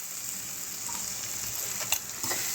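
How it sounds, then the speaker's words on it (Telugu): Finely chopped onions sizzle in a hot pan for a pumpkin curry, a soft, even frying hiss close by with a couple of faint stirring clicks near the end, no voices. "ఇప్పుడు మనం సన్నగా తరిగి పెట్టుకున్న ఉల్లిపాయలు వేసేసుకుందామండి"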